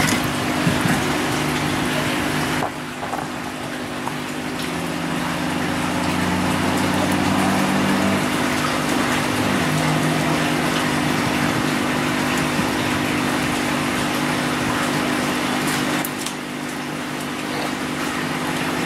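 Water rushing steadily through a large aquaponic filter being flushed through a 3-inch high-pressure valve, a continuous broadband wash with a low pump-like hum, near and alone for the whole stretch with brief shifts in the flow.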